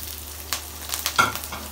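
Ginger, garlic and chillies fry in a pan for restaurant-style chicken chilli, giving a steady close sizzle broken by a few sharp stirring scrapes, with no voices.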